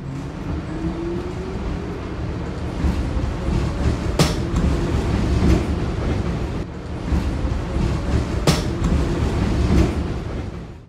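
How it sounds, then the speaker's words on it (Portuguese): A New York City subway train rumbles steadily through a loud, continuous stretch, with a couple of sharp metallic clanks along the way and no voices. "O lendário metrô de Nova York."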